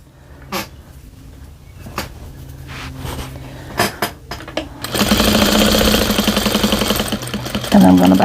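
Close handling clicks and knocks lead into a sewing machine running steadily at speed while back stitching a receiving blanket, its rapid even whir continuing to the end.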